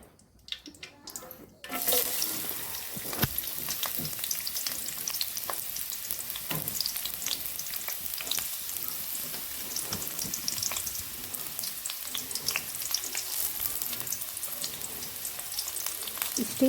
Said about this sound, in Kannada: ಗ್ಯಾಸ್ ಮೇಲೆ ಬಾಣಲೆ ಇಟ್ಟು ಸ್ವಲ್ಪ ತೆಂಗಿನೆಣ್ಣೆ, ಚಕ್ಕೆ ಕಾಯ್ತಾ ಇರಬೇಕಾದ್ರೆ ಈರುಳ್ಳಿ